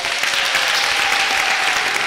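A crowd applauds during a spoken address, a thick, continuous roar of clapping hands that holds at the same level from start to finish.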